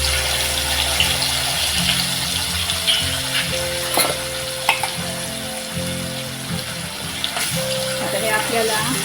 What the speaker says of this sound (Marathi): इथे आपण हे वाटण एक दोन मिनटं असं छान असं परतून घेतलंय आहे